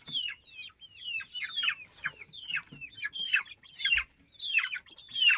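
A flock of chickens clucks near the coop as they go inside in pecking order. Close, continuous, overlapping clucks and short calls come in steady bursts.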